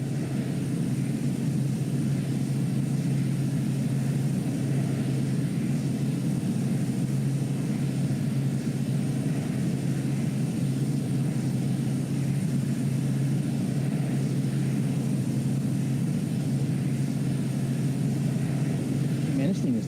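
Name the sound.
Piper M500 plane engine in video game Microsoft Flight Simulator 2020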